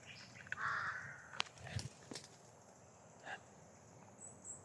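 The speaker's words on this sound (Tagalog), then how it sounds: "Sobrang lapit ng uwak guys." A few crow caws sound in short bursts out of a quiet outdoor background, with some rustling and a low thump partway through.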